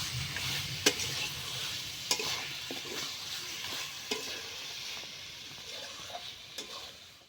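Chicken curry meat with garlic sizzles softly in a pan, a steady low frying hiss broken by periodic clacks of a spoon stirring against the pan, fairly quiet throughout.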